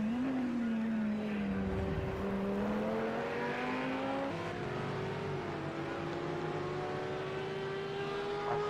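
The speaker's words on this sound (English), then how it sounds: "I think that may be Lamborghini that Simo is driving. That's a very broad, nice sound." A Lamborghini GT3 race car engine in Project Cars 2 holds a loud, sustained, broad tone that climbs slowly through the gears, with shift dips at intervals and no talking over it.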